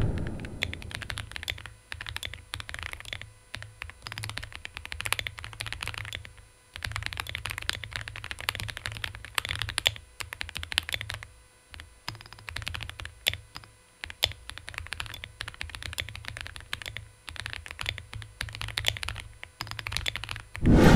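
Typing on an Aula F65 mechanical keyboard, a steady run of quiet, muted key clicks with brief pauses, close and alone without any talk.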